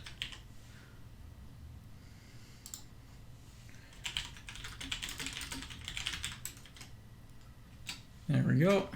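Soft keyboard clatter comes in irregular bursts of quick clicks, with quiet gaps between runs, over a low background hum. A brief voice breaks in at the end.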